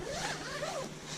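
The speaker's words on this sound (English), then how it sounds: "so normally I'll zip all the zippers back up" A zipper on a Gazelle T4 Plus hub tent being drawn closed: a brief, close, continuous rasping pull with slight rising and falling pitch, heard alone.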